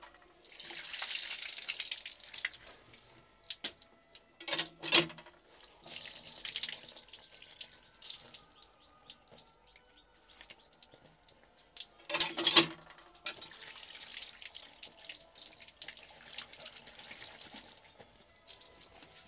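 Tap water runs over raw meat and legs being washed at a picnic, a soft hissing flow broken by a few louder splashes and clatters, with no voices.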